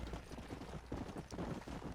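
A horse trots along in Red Dead Redemption 2, its hooves giving a soft, steady clip-clop at a quiet level, continuous and unbroken by talk.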